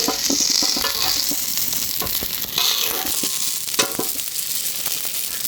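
Garlic sizzling steadily in a hot pan with oil, stirred with occasional scrapes and clinks of a utensil against the metal, close and continuous throughout.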